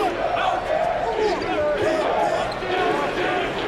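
A basketball arena crowd roars continuously and loudly after a spectacular alley-oop slam dunk, a dense wall of cheering and shouting with a voice talking over it.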